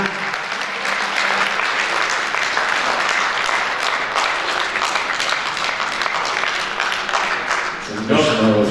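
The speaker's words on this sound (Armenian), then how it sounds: "ջեր ծափարեք և դիմավորեք մեր վարպետին" Sustained applause from an audience, steady and full throughout, with a few voices rising near the end.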